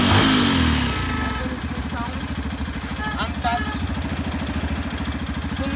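A 2023 Yamaha FZ-X motorcycle engine runs close by at a steady, pulsing idle with slight revving, while someone talks over it at the start.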